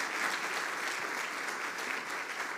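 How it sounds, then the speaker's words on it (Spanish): A church congregation applauds steadily, a dense even wash of clapping from many hands that holds at a constant level throughout without pause. "dale ese aplauso al Señor si se lo vas a dar y agradécele"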